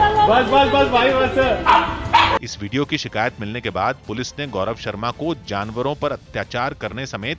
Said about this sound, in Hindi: कुत्ता भौंक रहा था, जिससे उसकी घबराहट का अंदाजा लगा।